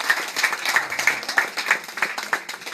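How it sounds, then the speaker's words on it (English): A small group claps hands at a police division lecture, giving quick rhythmic, slightly uneven claps close by for a few seconds. "Clap hand for Nigeria police."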